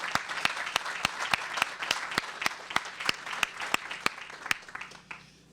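Crowd applause at a ribbon cutting ceremony, a steady wash of many hands clapping with sharp individual claps standing out, holding for several seconds before fading away at the end.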